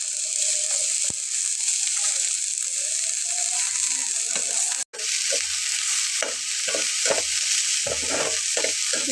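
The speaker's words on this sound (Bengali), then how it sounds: "সবগুলোকে একটু হালকা ভেজে নিতে হবে।" Onion and chopped string beans fry in a pan with a constant bright sizzle, while a spatula scrapes and clacks against the pan in a quickening series of knocks in the latter half; a brief dropout cuts through the middle, with no speech.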